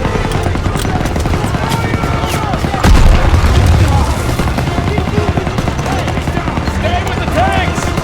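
An MG42 machine gun nest in Call of Duty WW2 fires amid a dense battle din of gunfire, booms and rumbling, loud and continuous, with shouted voices in the mix.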